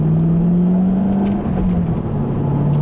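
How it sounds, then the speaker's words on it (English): An old General Motors V8 car pulls hard in second gear, a steady low engine drone rising slowly in pitch under cabin road noise, loud and continuous throughout. "Man, this car's got pretty good second gear pull. That V8 actually sounds pretty good."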